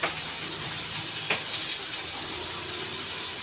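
Water runs steadily from a kitchen tap while squash is rinsed for a Filipino fish and vegetable stew, a continuous hiss with a few soft splashes and no talking.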